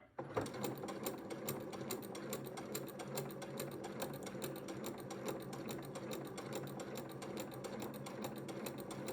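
A sewing machine stitching a quilt-as-you-go block, running continuously at a fast, even mechanical clatter of rapid stitches, close and steady throughout with no talking.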